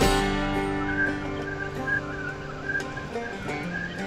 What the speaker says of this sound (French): le sifflement que le vent fait dans le casque